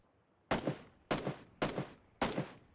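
Four evenly spaced gunshots ring out in PUBG, each a sharp loud crack with a short echoing tail, fired about half a second apart at a car's tyres, with no talking between them.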